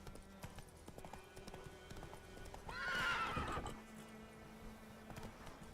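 Roach, the horse in The Witcher 3, neighs loudly near the middle amid a soft, steady patter of hooves, with no talk.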